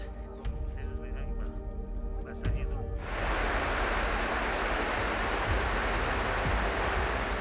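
A river supplying drinking water to a parish in El Quinche rushes loudly and continuously as a dense, steady roar of flowing water, starting abruptly after a few seconds of quieter sound.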